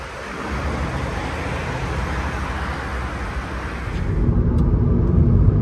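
An Audi RS3 driving on the road, its steady engine and tyre rumble heard from inside the cabin, growing slightly louder and deeper toward the end.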